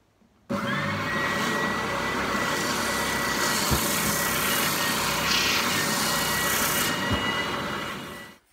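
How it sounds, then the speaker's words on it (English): A bandsaw cuts a wiggly shape from a wooden piece, the blade's steady rasping whir starting abruptly, holding loud and close for several seconds, then winding down, with no talking. "So I'm just going to cut one out on the bandsaw"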